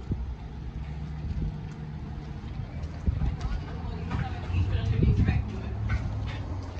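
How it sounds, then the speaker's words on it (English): Cold breeze gusting outdoors, a steady rushing wind noise with stronger buffeting gusts toward the end, close and fairly loud. "when the wind hits, it's crazy"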